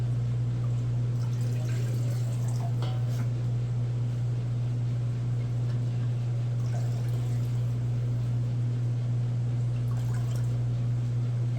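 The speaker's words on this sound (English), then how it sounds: "So I'm gonna take my warm hot broth and put it into these jars." Hot homemade broth pours into warm canning jars in a kitchen. The liquid sloshes softly and steadily over a constant low electrical hum, with a few brief clinks.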